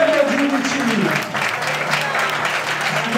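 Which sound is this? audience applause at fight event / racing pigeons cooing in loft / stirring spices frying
audience applause at fight event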